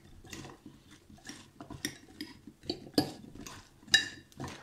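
Vegetables being tossed by hand with salt and pepper in a home kitchen, giving soft, irregular rustling and squelching bursts with a few light clinks, close and moderately quiet with no talk.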